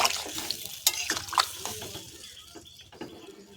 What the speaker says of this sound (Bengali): জলটা দিয়ে একটু নাড়াচাড়া করে নেব